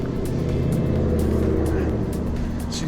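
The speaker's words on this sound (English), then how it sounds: "Let's see if this truck is gonna go or not." A truck's engine runs loud and close as it pulls away, a steady low drone with a slight rise in pitch throughout.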